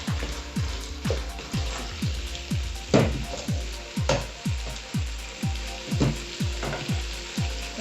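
Marinated beef fries in a pan while being mixed, giving a steady close sizzle broken by regular scraping strokes about twice a second, with no voices.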